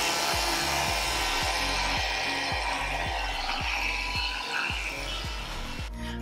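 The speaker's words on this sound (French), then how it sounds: "Et je vais me brosser les dents." A toothbrush scrubs teeth in steady back-and-forth strokes, close and rhythmic, roughly two per second, with a dull rubbing texture and no talking.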